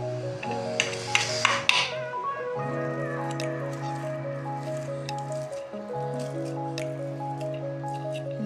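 Boiled potatoes are mashed with a fork for an aloo chutney, giving soft wet squishing bursts in the first couple of seconds. Steady melodic background music plays throughout.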